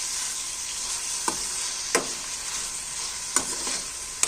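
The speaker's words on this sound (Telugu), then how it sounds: "పసుపు వేసేసిన తర్వాత ఒక్కసారి మిక్స్ అయితే చేసుకుంటున్నాం." Turmeric being stirred into frying egg curry masala in a pan: continuous close sizzle with several distinct spoon scrapes spaced about a second apart, no talking.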